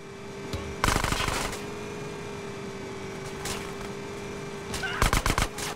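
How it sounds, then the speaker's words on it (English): Bursts of gunfire shoot out a gate in GTA San Andreas, a loud rapid volley early on, a brief shot midway and another rapid burst near the end, over a steady game background hum. "Shoot out the gate!"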